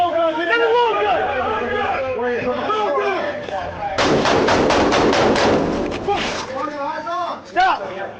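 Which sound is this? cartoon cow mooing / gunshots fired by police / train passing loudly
gunshots fired by police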